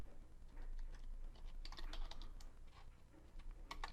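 Quiet typing on a computer keyboard while coding a Bootstrap website: a steady run of soft, irregular key clicks with occasional sharper taps, close and alone.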